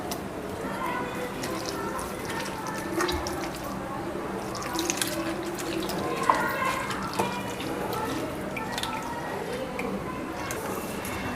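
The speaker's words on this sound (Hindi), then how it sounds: "थोड़ा सा पानी डालना है।" Water trickles and drips into a bowl of tamarind for chutney, with splashy, uneven pours, close by, alongside light clinks and handling noise.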